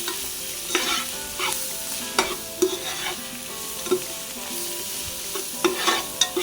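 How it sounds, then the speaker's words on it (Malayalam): Turmeric and chili powder are sautéed in a pan for biryani, with a soft, continuous frying sizzle broken by repeated sharp scrapes and taps of a spoon stirring against the pan. "ആദ്യം ഈ മഞ്ഞൾപ്പൊടിയും മുളക് പൊടിയും ഇട്ടിട്ട് നല്ലോണം വഴറ്റിയെടുക്കുക."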